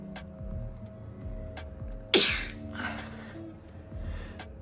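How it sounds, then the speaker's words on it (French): A single sharp sneeze bursts out close by, quiet breathing and faint room noise around it, followed by a softer breathy exhale. "je vais éternuer"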